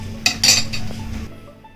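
A spoon scrapes and clinks against a metal pot while stirring cooked rice and lentils for sambar rice, a few close clanks followed by a softer scrape that fades out.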